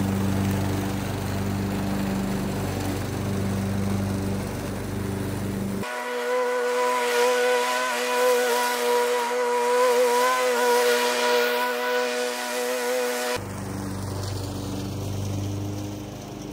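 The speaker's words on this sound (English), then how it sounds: "let's make a new square and clear it with a lawnmower" A lawn mower engine drones continuously, loud and close while clearing leaves, its pitch and tone shifting partway through as the machine changes load, then settling again.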